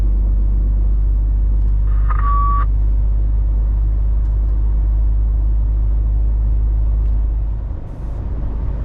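A car rolls along a freshly paved road with a steady, loud low rumble of engine and tyres throughout, a brief electronic beep early on and the drone dipping near the end.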